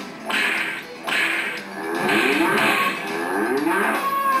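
A cow moo sound effect plays on a Packard Bell Legend 822CDT computer: a long drawn-out bovine lowing with several swells, loud and clear, alone without talk.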